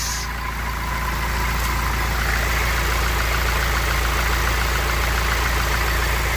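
A 2023 Toyota Hilux Single Cab 4x4 pickup engine idling steadily with a low, even rumble, continuous and close throughout with no speech.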